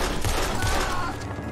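Gunfire in Red Dead Redemption 2, a loud, dense burst of overlapping shots filling the whole moment with little space between reports.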